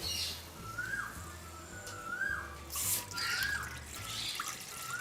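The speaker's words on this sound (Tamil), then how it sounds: "இந்த ஆடி இதுக்குள்ள தண்ணியை விடுவோம் கொதிக்கிறதுக்கு." Water trickles and splashes steadily into a pot to be boiled for Jaffna-style Aadi kool, with birds chirping in the background and a low hum underneath.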